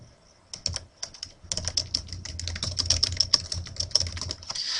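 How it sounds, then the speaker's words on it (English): Steady typing on a computer keyboard while formatting a reblogged blog post, quick close clicking keystrokes in dense bursts that build and continue to the end, with no talk. "so I can focus on typing"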